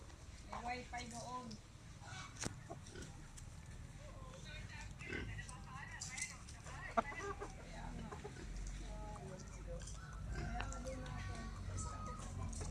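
A pet red rooster and hens cluck softly in short, scattered bursts against a low background rumble, with people talking and murmuring nearby through much of the stretch.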